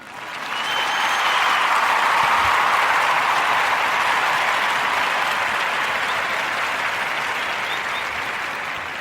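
A crowd breaks into steady, full applause that swells in quickly and holds, slowly easing toward the end, with no voices over it.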